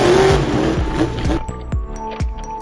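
A toy Max D monster truck races and crashes, with a burst of whirring motor and rolling noise followed by several sharp plastic knocks and clatters, close and loud, no speech.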